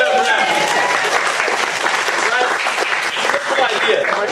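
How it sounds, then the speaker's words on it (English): Audience applause bursts out at a live entrepreneur talk session, a dense, loud, steady wash of many clapping hands sustained throughout. "Let's clap it up for that."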